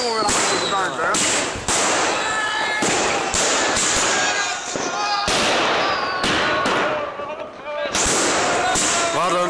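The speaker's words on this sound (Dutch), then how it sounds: "Wat een super vuurwerk!" Fireworks burst in a series of sharp, loud bangs with crackling in between in Oosterhesselen, Netherlands, while people talk nearby in Dutch.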